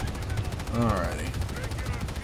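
Rapid bursts of incendiary-round gunfire from the Ogryn's weapon in Warhammer 40,000: Darktide, a close, rattling string of shots with a faint voice briefly underneath.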